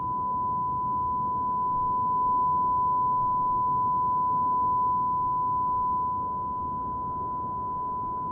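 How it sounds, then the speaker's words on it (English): A CarX racing game sounds a steady single-pitched beep tone, held unbroken and fairly loud for several seconds over a low rumbling bed of noise. "20 seconds left, then we get a beep tone."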